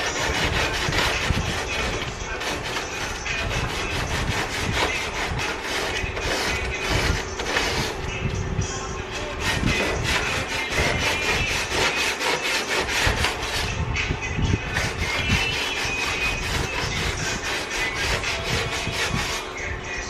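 A fiberglass front bumper on a Subaru BRZ is cut into a small strip by hand, with continuous rasping, scraping strokes in an uneven rhythm, close and fairly loud, without talk.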